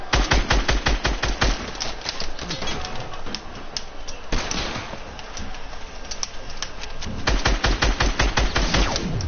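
Rapid automatic gunfire in a multiplayer shooter video game, long bursts of fast repeated shots with a short lull in the middle before another loud burst.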